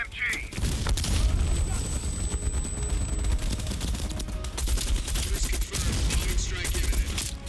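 Machine gun fire and explosions rattle and boom almost continuously during a Call of Duty Black Ops Cold War battle, dense and close, with shouted voices underneath.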